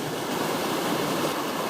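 Small waterfalls on the North Fork of the Calaveras River at Rich Gulch, a steady close rushing of water with no break and no voices.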